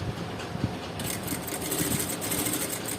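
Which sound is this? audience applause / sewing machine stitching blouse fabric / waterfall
sewing machine stitching blouse fabric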